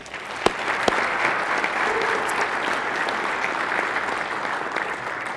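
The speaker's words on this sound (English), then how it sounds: "Senate colleagues, another round of applause for Matthew Messiah Cargo." Senate colleagues on the floor give a sustained round of applause for an honoree, steady and full-bodied from a chamber crowd, with a couple of sharper individual claps standing out early on.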